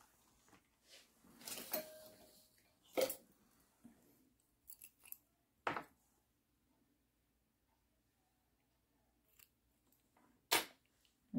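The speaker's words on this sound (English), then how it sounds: "You're going to cut your yarn" Scissors cutting yarn at the end of a crocheted hat, several short crisp snips spread apart with quiet pauses between them, close and fairly faint.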